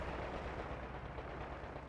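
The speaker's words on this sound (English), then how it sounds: "we got that strafe run being activated there" Strafe run air attack in Company of Heroes 2, heard as a dense, unbroken roar of rapid gunfire and rumbling impacts that stays loud and steady for about two seconds with no voices.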